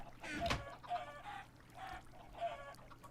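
Chickens in a Minecraft game give repeated clucking calls, four short bursts over a few seconds at moderate level, with no talk over them.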